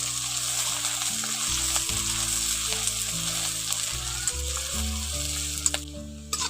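Chopped onion fries in hot oil while being stirred in a pan for a chicken curry. A continuous, close, even sizzle with a low hum underneath and occasional soft clicks of stirring, and no talk.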